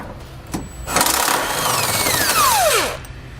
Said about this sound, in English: the one at the very back of our frame rail, we're going to use a 15mm socket